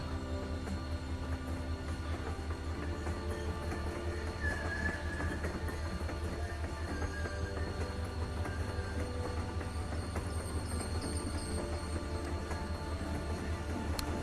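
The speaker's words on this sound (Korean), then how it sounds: "이제 열차 출발하네요" A train pulls away in The Walking Dead video game, a steady low rumble with faint rail clatter and occasional thin squeals, moderately quiet and continuous beneath a soft musical backdrop.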